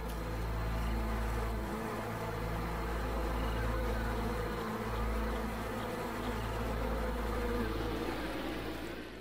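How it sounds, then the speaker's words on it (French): Honeybee swarm buzzing inside the hive as the colony stirs in spring, a dense, steady hum of many wings that stays close and continuous throughout with no voices. "À l'intérieur, l'essaim s'active en prévision de l'été."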